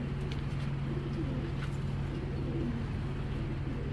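Racing pigeons coo softly and repeatedly nearby over a constant low hum, with faint background noise and no talking.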